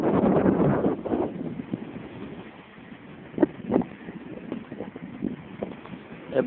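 Wind buffets a microphone at a seaside cliff in Cabo Espichel, Sesimbra, Portugal, a heavy low rumble with gusty bursts and thumps that rise and fall throughout.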